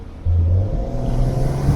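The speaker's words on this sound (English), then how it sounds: "You hear the exhaust there." A Maserati Levante S in sport mode rumbles with a deep, steady exhaust drone from inside the cabin with the window down, holding a low throaty note while driving.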